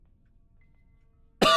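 After near silence, a single sharp, loud cough bursts out close by near the end, abrupt and harsh.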